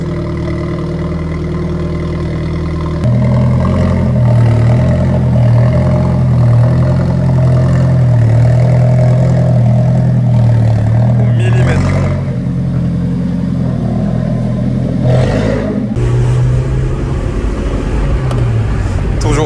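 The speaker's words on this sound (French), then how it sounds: "Ah, le cold start qui fait plaisir. C'est tellement loud." A V8 car engine fires up from cold with a sudden loud jump, then settles into a deep, rumbling idle broken by sharp revs. It is close and dominant throughout.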